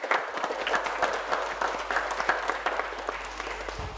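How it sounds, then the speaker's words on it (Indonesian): A school audience claps steadily in a dense wash of applause after a children's performance, sustained and fairly loud throughout with no voices standing out. "Tepuk tangan dong sekali lagi untuk Sergei."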